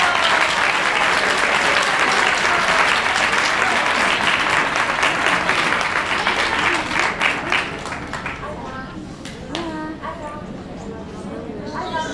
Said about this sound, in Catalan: Un aplaudiment per aquests nens i nenes.